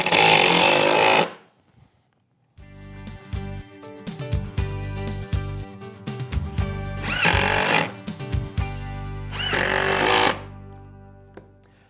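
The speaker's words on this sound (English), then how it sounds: "I'm going to position the hinge plate in place on the underside of the top, and then just screw it in place" A power drill-driver running screws through a metal hinge plate into the underside of a wooden table top, loud whirring bursts and stuttering pulses with short pauses between screws.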